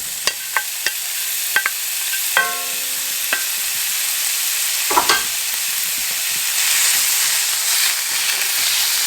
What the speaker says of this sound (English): now we're going to move over to the stove and I'm going to get started on the hamburger and beans